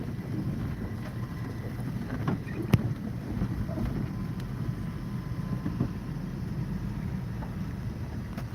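Cold, blustery wind blows outdoors in a steady low roar, buffeting the microphone throughout with a few brief gusts and bumps standing out.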